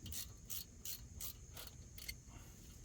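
A socket ratchet snugs down an 8mm bolt on a Ford F150 driver-side IWE replacement, giving about seven quiet, evenly spaced clicking pawl bursts. There is no talking.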